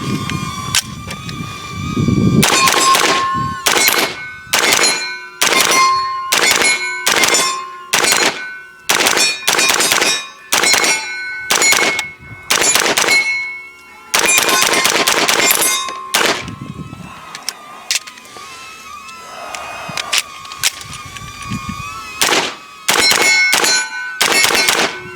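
PSA Jakl 9 pistol cracks off shot after shot in quick bursts and single rounds, each followed by a bright ringing clang from a steel target, loud and close with short pauses between strings.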